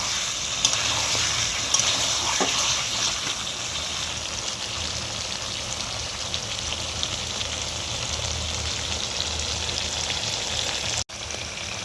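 Chicken curry meat sautéing with spices in a pan, a steady close sizzle and hiss with faint occasional clicks, running without speech.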